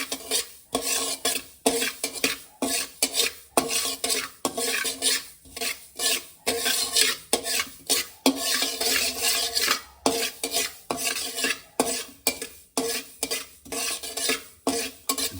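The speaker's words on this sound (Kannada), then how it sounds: "1 ಟೇಬಲ್ ಸ್ಪೂನ್ ಅಥವಾ 2 ಸ್ಪೂನಷ್ಟು ಗಸಗಸೆ ಲೋ ಫ್ಲೇಮಲ್ಲೇ ನಿಧಾನಕ್ಕೆ ಫ್ರೈ ಮಾಡ್ಕೊಳ್ಳಿ" Poppy seeds dry-roast in a pan over a low flame for sambar spice powder, stirred with a metal spoon in repeated rhythmic scraping strokes against the pan, each with a brief pause between.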